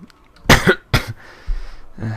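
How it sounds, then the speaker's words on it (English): Two sharp, harsh coughs close together, followed by a softer throaty rasp and a short low grunt, up close with no talking. "still have that cough"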